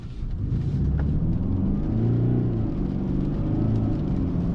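A 2024 Mercedes E-Class AMG 4MATIC sedan climbs uphill on a snowy road in freezing rain. Its engine keeps up a low, steady rumble and whir, heard from inside the car with no talking.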